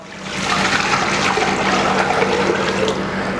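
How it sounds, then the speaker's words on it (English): Water pours steadily into a cooking pot for mahama rice, a continuous close splashing rush lasting a few seconds with no talk. "In goes the water."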